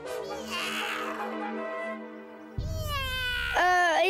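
A cartoon kitten meows in several drawn-out, high-pitched calls, rising and bending in pitch, with a steady musical background underneath and no talk over it.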